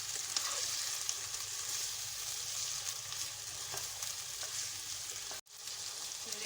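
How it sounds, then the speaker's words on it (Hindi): Chicken pieces fry with garlic and ginger in a pan for a green chicken karahi, giving a steady, dense sizzle throughout with a brief dip near the end. "चिकन को भूनूंगी मैं, चिकन का कलर थोड़ा चेंज हो जाए जब तक।"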